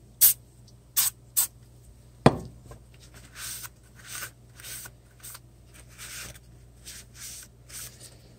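Cleaner sprayed onto dirt bike reed petals from a Cr250 V Force 2 reed block, a few short sharp hissing bursts near the mic, followed by a clunk and softer repeated sprays and rubbing.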